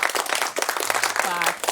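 Rhythmic hand claps in a children's action-word lesson beat steadily under a singing voice and music, close and lively.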